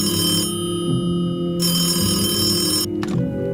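A telephone rings with an electronic bell, two long loud bursts of trilling tone separated by a pause, then a brief third burst that cuts off, heard up close with no voices.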